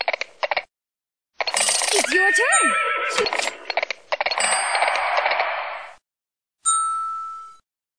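A horse in the Reading Blaster 5th Grade video game lets out a loud, close whinny with a rising and falling pitch, set among short game sound effects and a chime that ring out alone.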